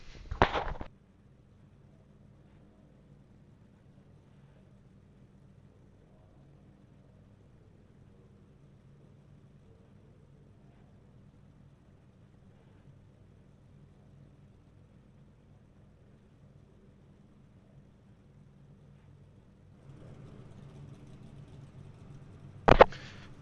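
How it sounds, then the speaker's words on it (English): V8 Supercars in a racing video game rumble at low pace behind a pace car, a faint, steady, deep droning hum that swells slightly near the end, bracketed by brief sharp bursts. "Can hear those V8s just rumbling off these cars."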